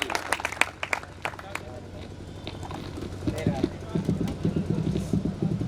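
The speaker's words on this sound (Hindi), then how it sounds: "जोरदार तालियों से इनका स्वागत करिए" Audience applause welcoming a speaker at a youth event in Nawada, with scattered sharp claps early on giving way to denser, steady clapping and crowd noise, voices heard throughout.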